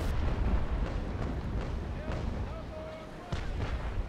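Naval cannon fire in a sailing-ship battle in the video game Naval Action, with deep booms and rumbling blasts, a sharp shot near the end, and a voice talking faintly underneath.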